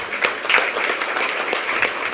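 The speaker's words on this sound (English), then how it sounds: "round of applause" Conference attendees on a college campus give a light, scattered round of clapping. It is moderately quiet and brief, with individual claps audible.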